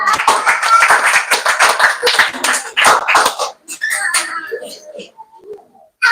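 Brief scattered clapping from a small audience at a women's New Year church service in the first few seconds, with voices and chatter mixed in, then quieter talk.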